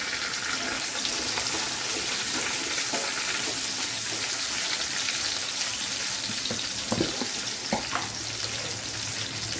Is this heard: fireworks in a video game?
no